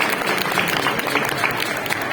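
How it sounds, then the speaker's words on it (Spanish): An audience claps loudly and steadily at an auction of the winning Gamoneu cheeses in Asturias. The dense, continuous applause lasts about two seconds, with no clear speech. "Aplaudir, hombre, animar."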